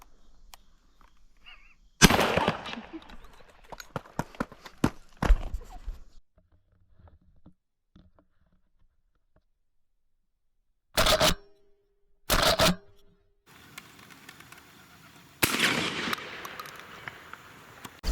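Sharp gunfire bursts ring out on a dove and pigeon hunt on private land in West Virginia, several loud shots spaced across the stretch with quiet gaps and rustling between them, some close together, no talk.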